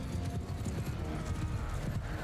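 Horse hooves clip-clop rapidly in Mount & Blade II: Bannerlord, a dense rhythmic gallop up close amid battle noise.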